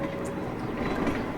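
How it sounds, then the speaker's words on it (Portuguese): Train rolling steadily along the tracks, a faint, even rumble with soft clattering, alone and unbroken. "O trem continuava."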